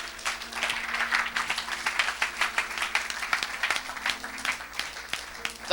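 A church congregation at a Sunday service applauds, many hands clapping fast and unevenly in a sustained burst, with a voice faintly audible underneath.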